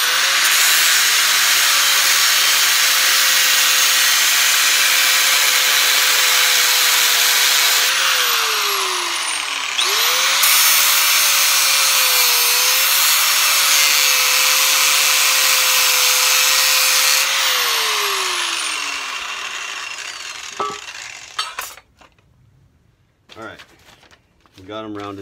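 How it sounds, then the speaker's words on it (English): An angle grinder squares off the corners of a steel bumper, running as a loud, steady whine with a sustained hiss of abrasion for about twenty seconds and dipping briefly in pitch before winding down. "we're gonna hit it with the grinder"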